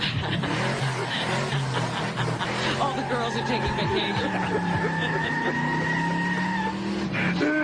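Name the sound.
cars skidding and racing sound effect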